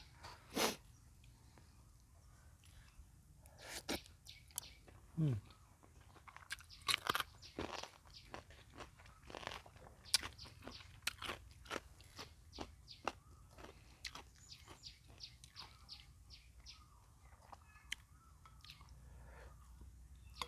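Close, quiet chewing of a rice lunch eaten by hand, irregular soft crunches and wet mouth clicks scattered across a hushed room, with short bursts of biting and no talking.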